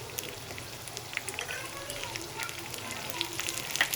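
A tadka of cumin, ginger and butter sizzling in a pan for Kashmiri dal, a faint steady crackle and hiss with small pops, close and continuous.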